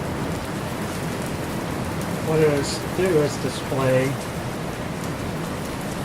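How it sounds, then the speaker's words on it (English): Steady rain falls outside as an even hiss through the whole clip, while someone speaks briefly over it. "It's raining outside."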